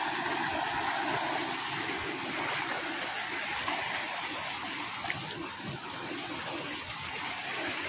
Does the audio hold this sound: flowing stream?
yes